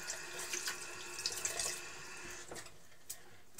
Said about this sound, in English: Just let me wash my hands.